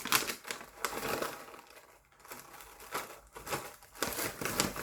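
A plastic zipper bag holding organic jelly candies made with natural colorings and caramel syrup crinkles and rustles close by in repeated bursts, with brief quiet gaps between the handling sounds.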